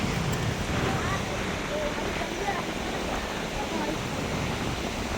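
Fast-flowing river water rushes past the last bed bar of a village river embankment in Bihar, a steady broadband roar that holds at an even level throughout with no pauses.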